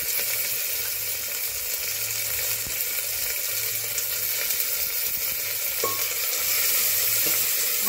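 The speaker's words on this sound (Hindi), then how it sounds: "प्याज जो काट कर रखे हैं उसको डाल देंगे।" Chopped onions sizzling in hot oil for a chana matar curry, a dense, constant frying hiss with light stirring taps, heard close and alone without any voices.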